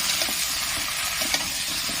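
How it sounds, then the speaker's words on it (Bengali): Malabar spinach stems for a mixed vegetable curry tossed in a hot pan, steady close sizzle and frying hiss with brief scraping stirs. "পুঁই ডাঁটাগুলো দিয়ে খুব ভালো করে এইভাবে নেড়ে নেব।"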